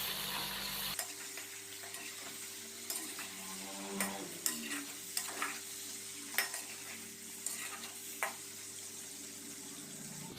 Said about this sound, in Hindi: टमाटरों को शामिल करने के बाद हम इसको अच्छे से मिक्स करेंगे एक दफ़ा।